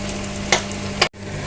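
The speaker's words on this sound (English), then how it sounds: "And put in the garlic, but only for a couple minutes" Garlic frying in a pan for a chicken and mushroom stroganoff, a close, steady sizzle with a couple of brief stirring scrapes and a sudden cut near the end.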